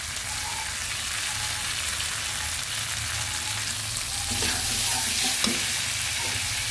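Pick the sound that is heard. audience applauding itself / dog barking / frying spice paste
frying spice paste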